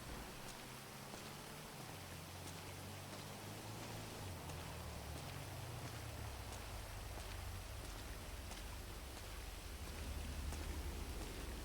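Rain falls in a GTA roleplay game on the NoPixel server as a steady, even patter on surfaces, continuous and moderately loud with no voices.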